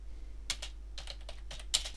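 Typing on a computer keyboard with word-prediction software, a handful of close, crisp key clicks arriving in short irregular bursts over a steady low hum, no talk.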